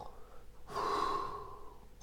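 A single voiced snore-like breath, drawn in and held for about a second, imitated by a person.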